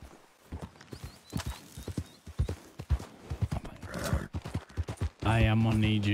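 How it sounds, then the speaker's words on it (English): Horse hooves clip-clop in a rhythmic series in the Red Dead Redemption video game, with neighing and game sounds alongside and a loud sustained tone swelling at the end. "I'm gonna need you to get off that horse there"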